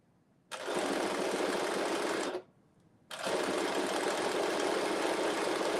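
A sewing machine runs in two long, steady bursts of rapid stitching, separated by a brief pause, while joining the front to the back of a cut-out maxi dress; close and loud.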